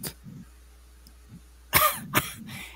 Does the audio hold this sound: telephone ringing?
no